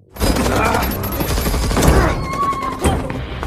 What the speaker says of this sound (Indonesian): Di tengah baku tembak, Harp mencoba menyelamatkan warga sipil sebisa yang ia bisa